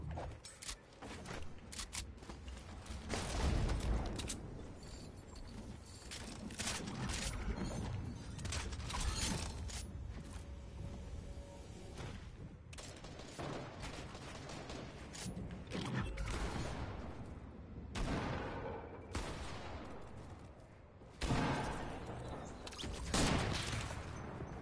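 Bursts of rapid gunfire crackle through a Fortnite match, repeated volleys rising and falling over shifting in-game clatter and mechanical noise, mid-distance and steady.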